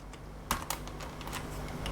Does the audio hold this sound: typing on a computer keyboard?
yes